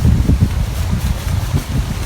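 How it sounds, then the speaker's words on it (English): Heavy wind buffets the microphone in a constant low rumble, gusting unevenly throughout with no voices. "Really windy right now, so I'll be back later when the wind calms down."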